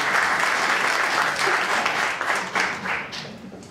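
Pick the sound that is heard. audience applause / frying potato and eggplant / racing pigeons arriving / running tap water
audience applause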